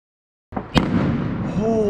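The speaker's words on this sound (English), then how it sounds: "they keep launching these rockets, yeah, and they're fucking massive" Bonfire Night firework rockets burst with a sharp close crack, followed by sustained crackling, rumbling explosions and a rising whistle, loud and continuous outdoors.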